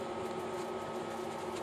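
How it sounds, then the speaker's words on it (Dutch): A quiet, steady mechanical whir hums evenly throughout from the small cooling fan of an HBM TIG 200 DC inverter welder running close by. "Het meeste wat je hoort is een ventilatortje."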